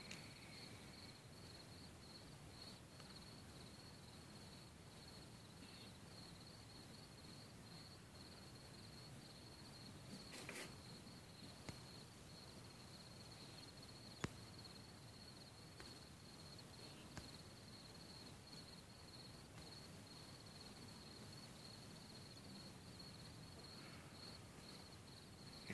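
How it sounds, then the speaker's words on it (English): Crickets chirp steadily in a quiet night ambience, a faint continuous trill over soft background hiss. "The sound of the crickets."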